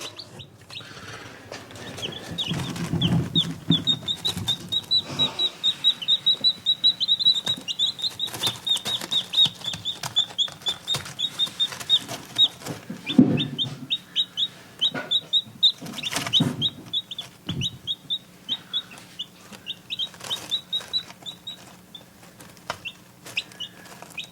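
Hens in a chicken coop cluck and chirp almost constantly, with a steady stream of close, high peeping and occasional louder clucks and brief wing flaps throughout.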